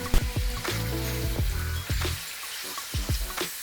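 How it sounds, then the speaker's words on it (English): Thinly sliced beef for bulgogi sizzles and crackles steadily in a hot pan, punctuated by repeated sharp scraping clanks of a utensil stirring, close and fairly loud. "Then keep stir frying so that the ingredients don't burn."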